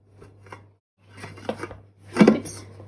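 A serving plate is set onto a hot tart pan holding a pear and cardamom puff pastry dessert: a few close, soft clinks and a brief scraping rattle, with no talking.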